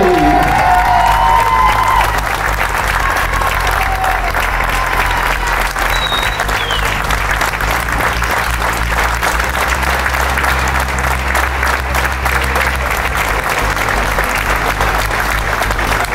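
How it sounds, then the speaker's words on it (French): An audience at a 2019 gathering in Montcuq applauds loudly to honour a long competitive career, the clapping dense, steady and unbroken for about sixteen seconds, with a few faint cheers near the start. "des applaudissements qui font chaud au cœur"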